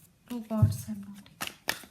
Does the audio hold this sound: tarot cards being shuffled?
yes